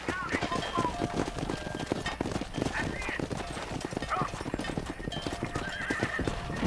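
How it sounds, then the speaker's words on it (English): Rapid hoofbeats of a galloping horse clatter steadily, with occasional whinnies and voices mixed in, in the video game Red Dead Redemption. "Control that horse, will you?"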